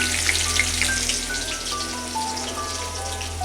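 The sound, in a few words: onions frying in hot oil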